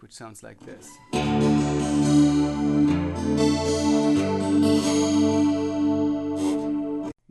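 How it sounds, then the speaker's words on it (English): Acoustic guitar played through a Trace Acoustic TA200 amplifier with a basic chorus effect: a short spoken line comes first, then sustained shimmering chords ring out loudly for several seconds. "I'm going to start out with a basic chorus effect"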